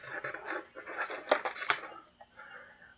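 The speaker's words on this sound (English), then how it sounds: "Go ahead and slice the tape off of that real quick." A blade slicing tape off the accessory kit of a GI Joe 25th Anniversary Cobra Stinger toy, a few quick close scraping and rustling strokes at low volume.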